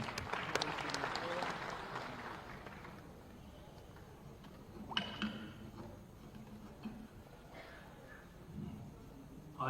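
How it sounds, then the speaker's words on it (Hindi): Audience applause fills the Deendayal Upadhyay Auditorium at the launch of a groundwater conservation mission, loud and dense for the first three seconds, then thinning into scattered claps and room noise. "आपकी जोरदार तालियों के साथ।"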